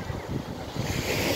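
Sea waves washing ashore with a steady breeze at Platja Nord beach in Gandía, a continuous loud rush of surf and wind noise filling the short stretch, no voices.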